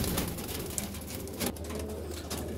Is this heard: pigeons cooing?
yes